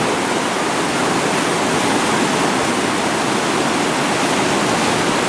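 A steady, loud roar of rushing flood water at Camp Nauvoo, continuous and dense with no break, heard alone without voices.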